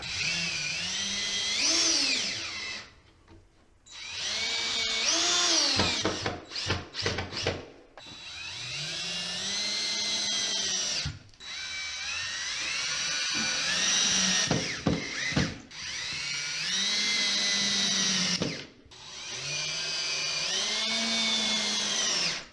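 A power drill whirs in repeated bursts of a few seconds each, with short pauses and clicks between runs as screws are driven into drywall.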